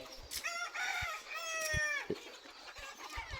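Free-range desi village chickens on a poultry farm, with a rooster crowing loudly and close while hens cluck in short bursts around it, outdoors with no talk.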